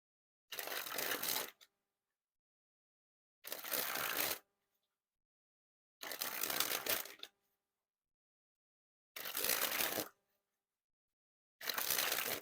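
Bestcardistalive playing cards being sprung from hand to hand, five separate bursts of rapid fluttering riffling, each lasting about a second, separated by silence and close to the listener.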